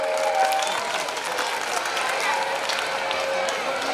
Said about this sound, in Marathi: तर अजून एकदा जरा टाळ्या होऊन जाऊ द्या.